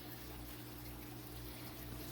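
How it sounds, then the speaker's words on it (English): Water spills over the edge of a container into a bucket where an air stone is breaking up a green scummy surface film, a faint, continuous trickling and bubbling with a low pump hum beneath. "when the water flows over the edge, it flows into the bucket"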